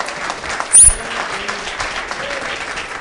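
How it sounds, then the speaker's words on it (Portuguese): Congregation at a Portuguese-language evangelical church service breaks into a short burst of applause, a dense clapping wave over steady room murmur that swells and fades within a second or two. "Você pode aplaudir a Jesus?"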